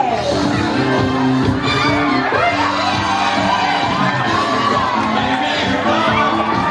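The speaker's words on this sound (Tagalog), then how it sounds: "Isang masarapong palakpakan mula sa ating lahat." Guests at a wedding reception shout, whoop and cheer loudly as a crowd for several seconds, with scattered voices and music-like tones mixed into the continuous noisy roar.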